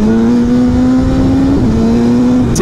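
A BMW S1000R four-cylinder roadster motorcycle engine runs loud and close as a steady, high-revving drone, its pitch dipping briefly near the middle before climbing again, with no voices.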